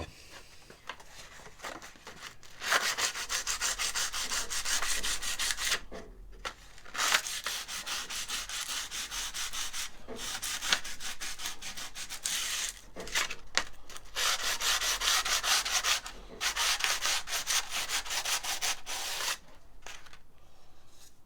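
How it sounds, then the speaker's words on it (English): A wooden ukulele neck is sanded by hand with long, rhythmic rasping strokes in repeated bursts, separated by short pauses, close and fairly loud with no talking. "Let me sand that."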